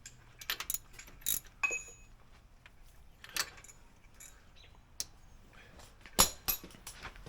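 Ratchet clicks and mechanical clatter come from a spark plug being tightened on a 1951 Chevy sedan engine, arriving as scattered short bursts with sharper clacks near the end, close and fairly quiet.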